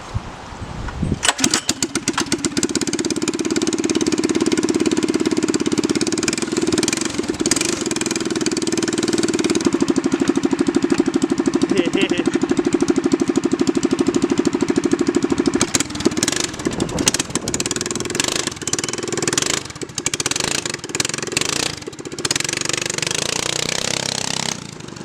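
A small gas engine on a mini crosskart starts and settles into a steady, buzzing idle close by, with occasional revs and sputters toward the end.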